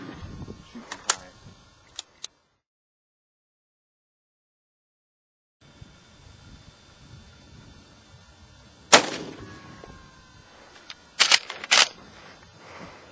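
Rifle shots ring out as several sharp, loud cracks: a couple near the start, one strong report around the middle, and a closely spaced pair toward the end, separated by quiet stretches and a stretch of near silence.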